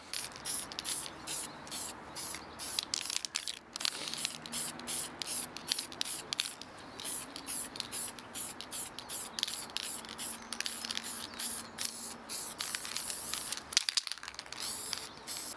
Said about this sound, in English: I'm now going to paint the mask with a layer of black plastic primer.